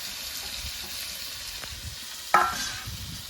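Chopped green chillies drop into a pan where tomato and carrot are already frying, giving a steady sizzle with stirring and a brief sharper hiss as they land.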